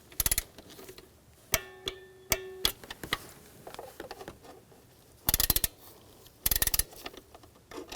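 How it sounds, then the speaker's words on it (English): Torque wrench clicking and ratcheting while tightening bolts on the intake manifold of a 2000-2006 BMW X5 3.0L inline-six, with several sharp clicks and bursts of ratchet ticks spread over several seconds, close and fairly quiet. "Now I'm going to torque these bolts to 79 inch-pounds"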